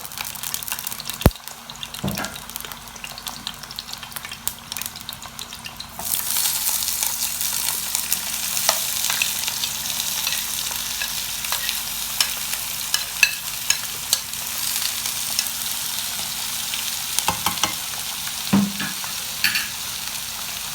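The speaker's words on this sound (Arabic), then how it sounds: "هاد المقلاة هذه غادي نشحر فيها البصله، تقريبا شي 3 المعالق ديال الزيت على حسب الكميه" Onion fries in about three spoonfuls of oil in a frying pan. A loud, continuous sizzle jumps up partway through and carries on to the end, broken by occasional sharp clinks of stirring against the pan.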